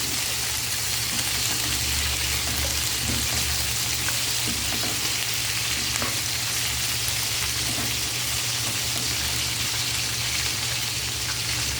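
Cucumber and white onion stir-fry in a pan, giving a steady, close, continuous sizzle and crackle with soft stirring scrapes throughout and no talking.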